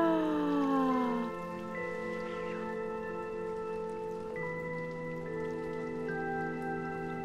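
Steady rain patter fills the scene in Little Nightmares II, a soft continuous hiss lying beneath sustained eerie tonal drones, with no voices and an even level throughout.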